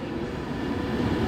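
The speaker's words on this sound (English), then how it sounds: "And this is an 11 chord pendolino" An Avanti 11-car Pendolino electric train, unit 390136 on an Edinburgh Waverley to Euston service, rumbles past at Carlisle station, a loud, steady roar of wheels and motors close by with no talk.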